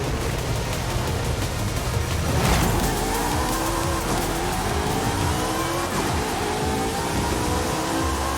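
Race car engines roar at a race start in Forza Horizon 5, a dense, loud wall of engine noise with rising revving sweeps as the cars accelerate, no voices over it.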